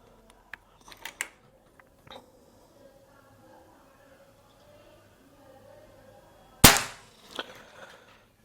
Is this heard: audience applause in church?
no